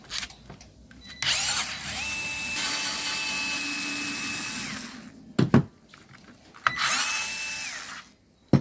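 A power drill backs screws out of a Ryobi PLT3043YW pull starter, with two close whirring bursts: a long run of about four seconds, then a shorter one after a brief pause and a few clicks.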